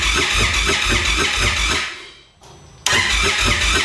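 Indian Thunderstroke 116 motorcycle engine with a newly installed performance cam cranks and fires into a loud, lumpy, pulsing idle, cuts out for a moment, then catches again and runs rough, close up with no talk.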